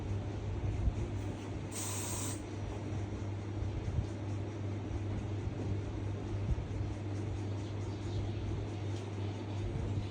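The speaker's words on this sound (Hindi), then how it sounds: "हेयर स्प्रे करोगे और हेयर स्प्रे से आप लोग इनको बिठा दोगे।" A short hiss of hair spray misted over hair styled into a rose bun, one brief burst heard faintly against a steady low background hum.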